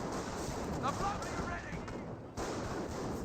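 Gunfire in a Company of Heroes battle around a Panzer Grenadier near a half-track, with bursts of rifle and machine gun fire over a busy battlefield din, someone talking throughout.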